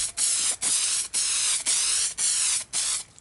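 Super gloss clear coat is sprayed onto a car body panel on a hot day in six steady, close hissing bursts, each about half a second long and separated by short pauses.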